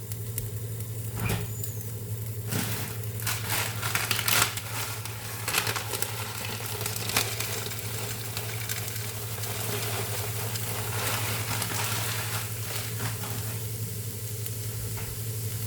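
Minced garlic stir-fries in a hot pan with a continuous sizzle and occasional scraping and tapping of a utensil against the pan, steady and close throughout.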